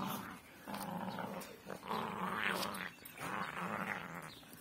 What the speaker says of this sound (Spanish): Mis perros de presa